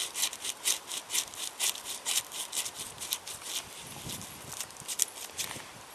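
A knife blade scraped repeatedly over birch bark to raise curls, giving a quick, rhythmic series of dry rasping strokes, close and fairly quiet, with no talk.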